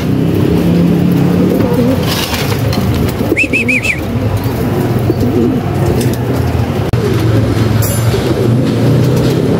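Racing pigeons cooing in a loft, a steady chorus of low throaty coos close by, with a few brief higher calls and faint background rumble.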